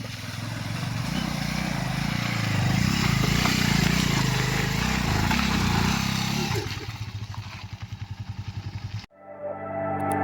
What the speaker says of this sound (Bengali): ওই যে বাইক যাচ্ছে